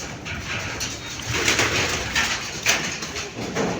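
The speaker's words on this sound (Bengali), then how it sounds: "এই যে কবুতর দেখছেন, মানে কি পরিমাণ কবুতর কি বলবো বলার বাইরে" Numerous pigeons of all sizes coo in a crowded loft, producing low, continuous murmuring with overlapping coos and occasional fluttering or shuffling, close and fairly loud.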